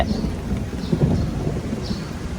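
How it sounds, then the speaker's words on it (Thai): Steady heavy rain falls with a constant hiss over a low, rumbling undertone, no voices. "ฝนตกพี่น้อง"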